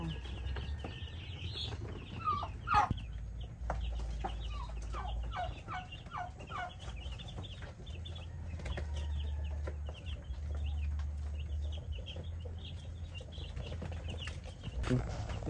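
Chickens and chicks on a poultry farm: high, rapid peeping from chicks and occasional clucks, fairly close, over a low, steady rumbling hum.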